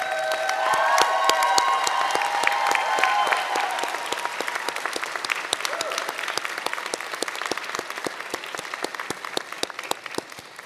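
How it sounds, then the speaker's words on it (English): Sustained round of applause from a standing audience at a 2019 commencement ceremony, dense and steady clapping that starts loud over some brief tonal sounds and gradually thins toward the end. "would you please rise and honor them for all that they've done for you with a round of applause"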